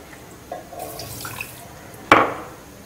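Water from a bowl poured into a tea pan holding sugar for a light sugar syrup, a brief close splash and pour sounding alone in a quiet kitchen.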